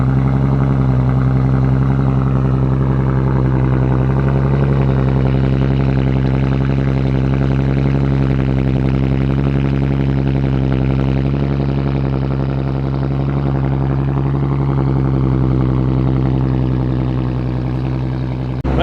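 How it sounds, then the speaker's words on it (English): A Nissan Skyline GT-T engine with a Tomei aftermarket exhaust idling loudly and steadily with a deep, throaty exhaust rumble, close up and continuous, no talking. "let's start it up and let's listen to this Tomei exhaust"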